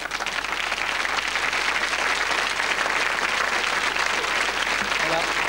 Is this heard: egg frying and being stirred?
no